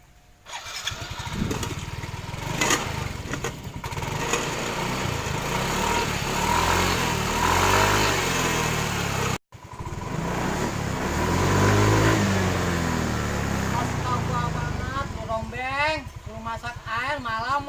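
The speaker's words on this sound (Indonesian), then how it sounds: "Masak air malah motor digerung-gerungin." A motorcycle engine is revved repeatedly, its rough idle rising and falling through several throttle bursts over about seventeen seconds, close and loud, with people talking over it and a brief cut midway.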